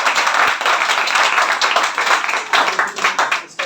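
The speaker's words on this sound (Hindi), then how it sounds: "वेरी गुड, ताली बजाओ इनको।" A group of students clapping in a classroom for a classmate, a dense, steady patter of many hands that holds for several seconds with slight swells, moderately close and with no talk over it.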